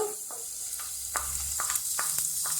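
Minced garlic sizzles steadily in a pan of melted butter and a splash of oil, a continuous bright frying hiss broken by a few light clicks of stirring, close and alone with no voices.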